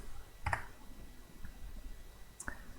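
Keys clack on a computer keyboard in a quiet room, a few faint isolated taps and a brief clicking cluster rather than steady typing.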